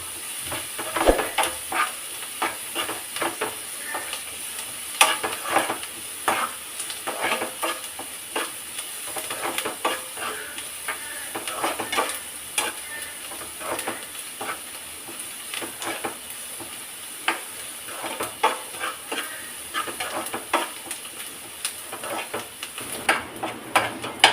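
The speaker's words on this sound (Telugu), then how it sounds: "ఆనియన్స్ బాగా వేగిపోయాయండి." Onions and green chillies fry steadily in a pan for a prawn and ridge gourd curry, a continuous broadband sizzle broken by frequent clicking stirs, fairly close and with no talk.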